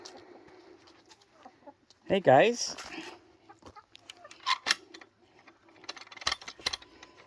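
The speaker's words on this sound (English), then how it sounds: "And here are our chickens." Chickens are heard in a backyard run of eighteen hens and one rooster, with a loud squawk early on and scattered clucks, plus mechanical clatter, as someone speaks briefly.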